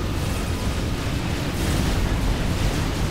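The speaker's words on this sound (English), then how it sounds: "Artillery shells." Artillery shells slamming down in a Supreme Commander: Forged Alliance survival boss match, a dense continuous barrage of deep booming blasts and rumble, loud and close, with no voices.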